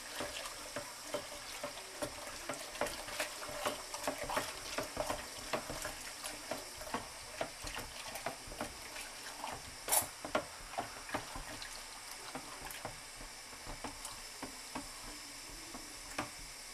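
Sweet tea and cold water swirl and clink softly as they are stirred in a pitcher, with a gentle watery sloshing and occasional light taps against the sides.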